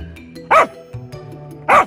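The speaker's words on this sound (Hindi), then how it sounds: "अपने जान के लिए वो भौंकने लगा" A dog barks twice, sharp and close, with a short whimpering sound in between.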